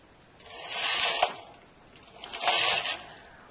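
A knitting machine knits the first row of a short-rowed ruffle as its carriage makes two smooth raspy sweeps across the needle bed, each ending in a small click, close and clear with no speech.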